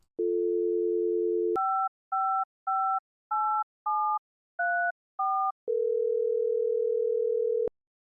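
A dial tone in an Unreal Engine 5 game's phone system gives way to seven evenly spaced touch-tone beeps as a number is keyed in, then a steady ringback tone holds alone for about two seconds before cutting off.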